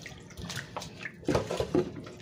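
Water splashes and pours into a mixing bowl in short bursts, close by, with sloshing surges toward the end and no talking.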